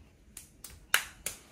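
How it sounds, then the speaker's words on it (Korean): A baby claps small hands four times at uneven intervals, each clap a crisp, light slap growing a bit stronger, close and fairly quiet, with no talk. "잘한다. 박수."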